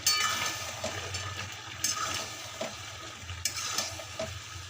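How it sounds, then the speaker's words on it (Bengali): Ghee, garam masala and kasuri methi being stirred into a soybean curry in a hot pan: a steady close sizzle under irregular scraping stir strokes, with a few sharper utensil taps, and no talking. "ঘি, গরম মশলা আর কসৌরি মেথিটাকে ভালো করে মিক্সড করে নিচ্ছি।"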